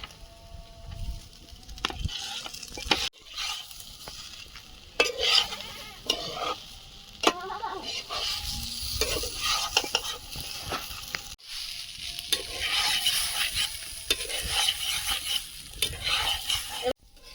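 Broken wheat dalia fries with vegetables in a pan, stirred briskly with a utensil. A loud, close, continuous sizzle runs throughout, with repeated scraping and clanking strokes against the metal, and no one speaking.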